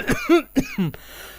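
A man coughs close by in a short fit of about four harsh, throaty bursts, followed by a quieter trailing breath.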